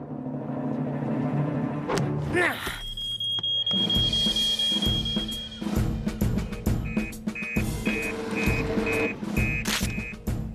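A steady electronic supermarket alarm in the Fireman Sam cartoon beeps over rumbling engine noise and clattering, with repeated high tones pulsing in a regular pattern; loud and nearby.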